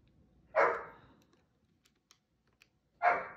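A dog gives two loud, close barks about two and a half seconds apart, each a single sharp bark with no voices around them.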